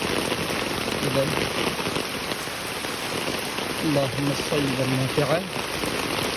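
Steady rainfall hisses continuously in Cox's Bazar, Bangladesh, while someone speaks briefly over it at the start and again near the end.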